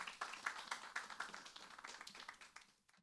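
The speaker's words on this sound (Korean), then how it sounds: "큰 박수 부탁드릴게요" Audience applause at an international gamification conference as a professor is invited to the stage, a short spatter of scattered hand claps, faint and thinning quickly into silence.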